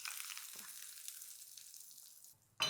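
Hot ghee tempering with cumin is poured into a dish of sabudana thalipeeth mixture, giving a faint steady sizzle that fades, followed by a sharp clatter at the end.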